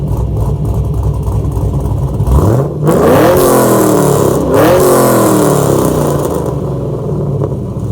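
A loud cammed Chevrolet Camaro engine revs hard through a quad-tip exhaust, roaring up in pitch twice with a deep, throaty exhaust rumble between pulls.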